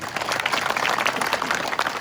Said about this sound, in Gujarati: એમના માટે જોરદાર તાળીઓ થાય